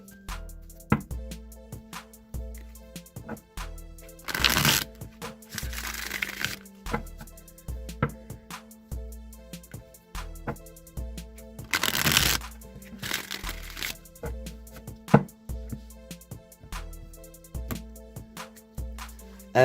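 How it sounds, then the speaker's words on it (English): A Rider-Waite tarot deck is shuffled by hand, close up, with two bursts of riffling cards and soft taps and card handling in between over a faint backing tone, with no talk. "let's go ahead and shuffle the Rider-Waite deck a few times"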